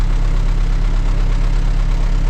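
A farm tractor's engine drones loudly and steadily at a close, even idle-like pace during field ploughing, with no talking over it.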